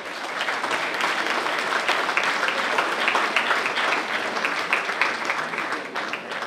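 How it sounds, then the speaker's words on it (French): An audience applauds a singer with dense, steady clapping that fills the whole stretch at an even loudness, with no voices on top. "Merci, on peut l'applaudir."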